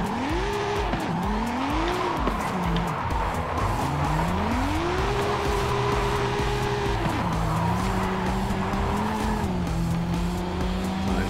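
A car drifting in Forza Horizon 5, its engine swooping up and down in pitch while tires squeal and skid almost continuously, loud and close.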